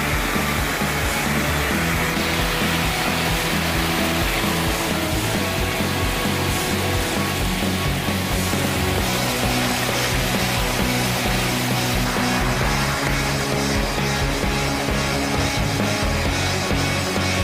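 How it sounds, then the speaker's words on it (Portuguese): Waterfalls at Patrimônio da Penha roar in a dense, constant rush of falling water, loud and close, filling the whole stretch without pause or voices. "Apenas no início das cachoeiras de Patrimônio da Penha."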